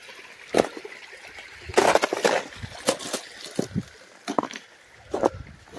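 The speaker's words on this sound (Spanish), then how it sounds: "Un río bajo igual se puede cruzar tranquilamente." A shallow, low river at a crossing sloshes and trickles with intermittent splashy bursts, nearby and moderately loud, with no speech.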